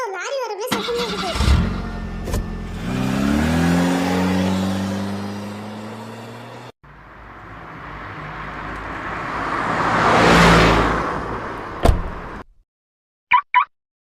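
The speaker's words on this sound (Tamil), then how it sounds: "ஆமா, ஏதோ லாரி வர மாதிரி சத்தம் கேட்குது." A lorry engine revs with a rising, whining drone, then a broad rumble swells louder as the lorry approaches and cuts off. Short knocks follow near the end.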